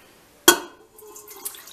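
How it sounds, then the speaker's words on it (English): Hot water pours into a mixing bowl, beginning with a sudden splash and settling into a softer trickle and fill sound, close and alone. "I fill my bowl with hot water just to heat it up"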